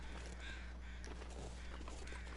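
In the survival video game The Long Dark, crows caw in a few rough, scattered calls over a faint outdoor ambience. They sound quiet and distant.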